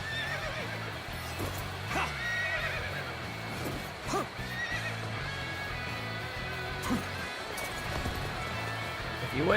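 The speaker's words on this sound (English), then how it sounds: "I can cheer on my horse while I'm doing this." A horse in Dynasty Warriors Origins whinnies repeatedly over steady clip-clopping hooves at a gallop, mixed with game battle noise and someone talking throughout.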